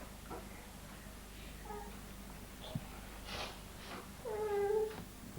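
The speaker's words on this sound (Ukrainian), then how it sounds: "Це киця, як киця каже?" A cat gives a single clear, drawn-out meow near the end, preceded by faint scattered sounds and low background noise in a quiet indoor setting.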